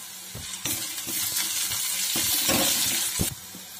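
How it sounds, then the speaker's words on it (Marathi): Onions fry in a pan until reddish, with bursts of sizzling and scraping stirs over a steady hiss, close and moderately loud, with no talking. "कांदा आपल्याला छान असं भाजून घ्यायचं आहे लालसर होईपर्यंत."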